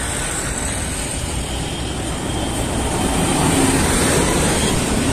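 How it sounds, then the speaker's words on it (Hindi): Heavy road traffic beside Anand Vihar railway station in heavy rain, a steady broadband roar of engines and wet road noise that grows slightly louder partway through, with no voices. "बहुत ट्रैफिक"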